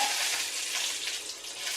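Curry leaves sizzle and crackle in hot oil with mustard seeds and urad dal during tempering, a steady close hiss with no talking.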